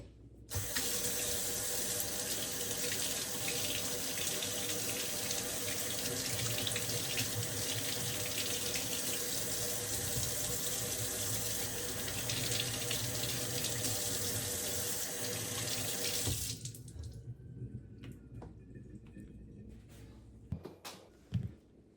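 Organic lemons washed under a running kitchen tap, with a steady, close rush of water for about sixteen seconds that then stops, followed by quiet and a few faint handling clicks.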